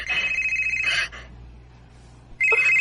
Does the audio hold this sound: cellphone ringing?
yes